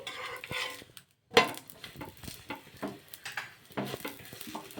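Paratha roasting with oil on a pan: soft sizzling under repeated clinks and scrapes of a spatula against the pan, with a brief pause before the clattering resumes.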